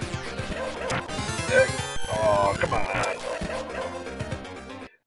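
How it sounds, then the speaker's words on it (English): A dog in the Shadow Dancer video game barks repeatedly in quick yapping bursts amid game music and crashing effects, with someone briefly speaking over it. "I guess nobody's intimidated by the dog's bark."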